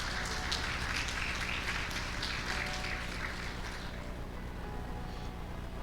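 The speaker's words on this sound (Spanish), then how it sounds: "Dele el aplauso a la palabra del Señor" Congregation applause at a Spanish-language church service, a steady wash of many hands clapping that holds for several seconds and then thins out toward the end, with no one talking over it.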